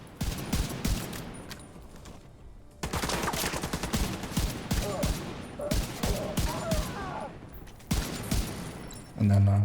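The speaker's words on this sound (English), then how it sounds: "I'll just unload this LMG for 1-4" A light machine gun fires in a video game in long rapid bursts of close, punchy shots, broken by brief pauses, with a metallic reload clatter at the end.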